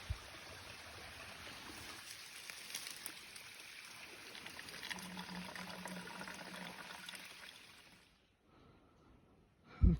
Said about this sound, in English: use this Sawyer squeeze to filter it. And then just fill these up. And this is it in action.